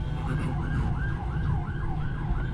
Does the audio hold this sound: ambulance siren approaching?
yes